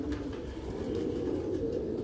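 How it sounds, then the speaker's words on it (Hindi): White Hansraj pigeons coo softly and steadily, a low continuous burbling murmur close by with no voices. "ये हंसराज कबूतर इन्होंने नाम इनको हंसराज ही दिया"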